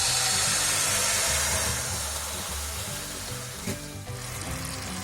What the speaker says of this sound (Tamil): இப்போ வாணலியில் நம்ம வடிகட்டி வச்சுருக்க வெள்ளை கரைசலை சேர்த்துக்கலாம்.